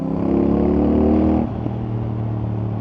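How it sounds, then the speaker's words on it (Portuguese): A CFMOTO 450NK twin-cylinder motorcycle engine revs loud and close, holding a steady high note before dropping back to a lower, lumpy idle with no voices over it. "Aí o barulho da moto está muito fixe."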